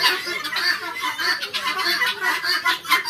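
Hens on a poultry farm cluck and squawk in quick, overlapping bursts, close and fairly loud, a busy flock chattering continuously with no talk.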